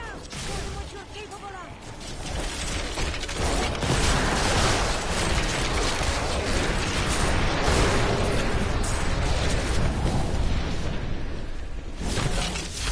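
Repeated explosions from a Death Nova Necromancer in Diablo III pile up into a dense, loud, continuous barrage of bursts and crackling for many seconds, with game noise mixed in.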